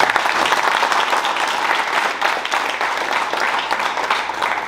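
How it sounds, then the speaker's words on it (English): An audience at a Tri-Alpha honor society induction ceremony claps for the new inductees, a steady and fairly loud round of applause from many hands with no speech over it. "Can we give them all a round of applause?"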